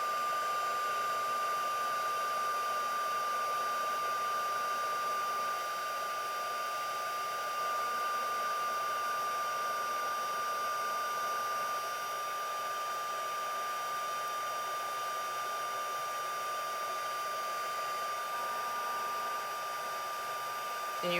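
A heat tool heats a shaker card for crafting, blowing with a steady, loud, high-pitched whirring hiss that runs continuously and close by with no break.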